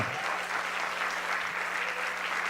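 An audience at a French heritage awards event applauds honoured sponsors and guests, a dense continuous patter of clapping with a faint low hum beneath it.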